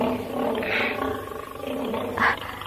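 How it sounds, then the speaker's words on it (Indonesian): A tiger roars as a sound effect in a radio drama, a rumbling, sustained growl-roar with a sharper swell near the end, loud and close with no talk over it. "Ada raungan harimau."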